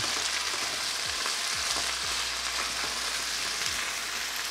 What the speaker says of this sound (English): You can mix the red chili paste along with the sausages and the onion.